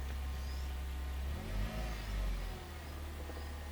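The engine of a 2003 Suzuki Aerio with a manual gearbox and a replaced, non-stock rear exhaust idles with a deep bassy rumble, then revs once in a short swell before settling back.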